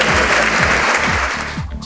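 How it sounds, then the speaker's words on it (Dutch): Audience applause at a public administration congress, dense steady clapping from a large hall crowd, sustained throughout and fading slightly at the end. "dan mag u klappen"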